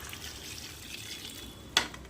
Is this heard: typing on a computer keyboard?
no